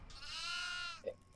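Goats let out of their pen in the horror video game DEVOUR's farmhouse map give one long, loud, wavering bleat, then a short quieter call right after, with no talk.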